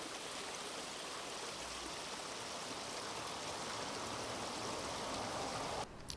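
Mine water contaminated with toxic metals such as cadmium flows down Little Cow Creek in Shasta County as a steady, unbroken rush of running water that stays even throughout and cuts off abruptly at the end.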